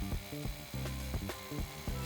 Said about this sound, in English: 80 million year old granite just drilling right through it